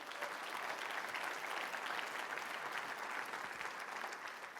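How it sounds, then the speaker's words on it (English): Conference audience applauding a 39-year employee during a keynote, a steady, even round of clapping from a large crowd sustained throughout, fairly distant and without talk over it. "Can you give her a round of applause?"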